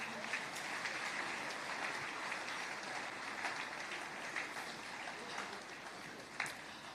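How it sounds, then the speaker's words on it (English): An audience claps softly and steadily at a church gathering, a faint wash of distant applause that carries on throughout with a few sharper claps near the end. "Keep clapping."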